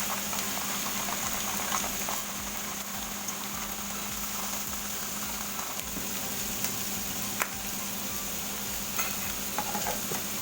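A marinade with a spoonful of sugar is mixed for tofu and pork, giving a steady run of soft stirring and scattered light clinks against a constant low background hum, with no speech.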